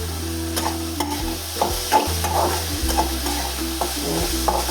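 Grated coconut sautéing in a pan for egg curry, a loud close sizzle under repeated stirring scrapes and clinks with a low steady hum beneath, no voices.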